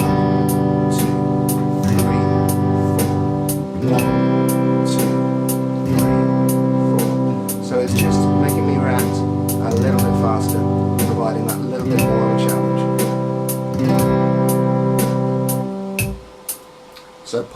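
A sustained chord rings in steady repetitions, two half notes per bar at a slow 60 bpm, each held tone struck anew with even spacing over a regular ticking pulse before fading at the end.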